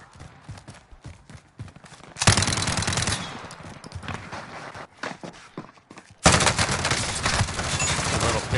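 Machine gun fire in a video game comes in bursts, with sparse scattered shots, then two loud sustained volleys of rapid automatic fire, the second running to the end.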